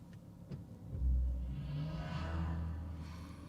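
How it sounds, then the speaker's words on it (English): A Mercedes-AMG EQE53 electric car starts up in Sport Plus mode, giving off a deep synthetic rumble that swells and then holds as a low, steady drone, close and moderately loud with no talking. "Switching it up to Sport Plus and starting up the car right over here."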